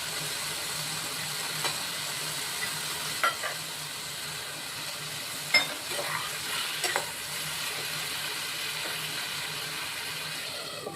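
Ground spice masala hits a pan of Bengali fish curry (dhakar jhol) and sizzles in a steady, close hiss, with a few soft clinks of a spoon stirring through it.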